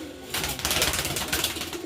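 A Kalanka pigeon coos in soft repeated rolling notes, close by, over a faint background hiss.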